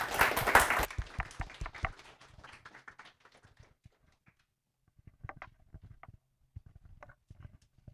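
Audience applause at a developer meetup, loud and dense in the first second, then thinning into scattered claps that trail off with quiet gaps.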